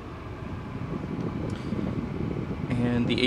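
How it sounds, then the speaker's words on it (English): Air conditioning blows inside a 2012 Volkswagen Passat TDI SE diesel, a steady, fairly quiet whoosh of fan air that fills the cabin evenly, with a few faint clicks near the end. "The AC is blowing very cold."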